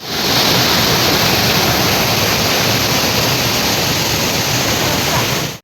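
A district waterfall in dense forest overflows with a loud, unbroken roar of rushing water that fills the whole clip at close range.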